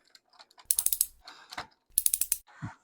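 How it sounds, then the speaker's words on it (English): A tiny screwdriver turns small screws with effort. Close, bright ratcheting clicks come in two rapid bursts of several ticks each, with softer scraping handling noises around them. "Just too hard to turn the screws with this little tiny screwdriver."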